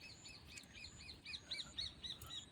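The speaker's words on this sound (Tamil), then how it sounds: "கூடவே குருவிகளோட சத்தம்." Sparrows chirp in a quick, repeated series of bright calls, fairly close, over steady outdoor background noise during a walk in the rain near water.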